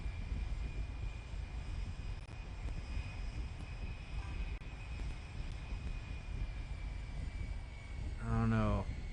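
Four-engine B-52 bomber engines throttling up in War Thunder, a steady broad jet roar that holds throughout and swells slightly near the end, with a brief tonal sound at the close.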